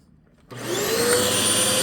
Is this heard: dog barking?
no